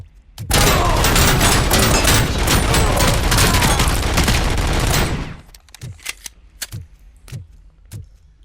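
Rifle gunfire in the Robocop: Rogue City video game, with a dense, loud stretch of rapid automatic shots followed by about half a dozen separate single reports, each one sharp and close.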